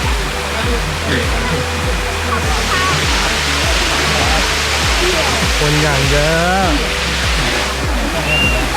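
A loud, constant roar of the seventh tier of Erawan waterfall fills the scene, with people talking over it and rhythmic thumps underneath.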